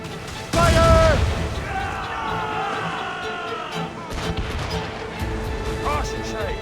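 Ship cannons boom from a naval battle in Assassin's Creed Rogue, a loud close blast followed by rumbling fire, with a crew's shouted voices and game music running throughout.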